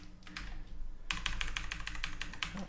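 Rapid keystrokes on a computer keyboard during 3D modeling of a perfume bottle, a sparse few clicks at first, then a dense burst of quick, close typing without speech.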